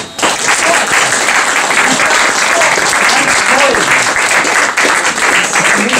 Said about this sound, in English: Please, let's give a big applause for Nancy Donsky.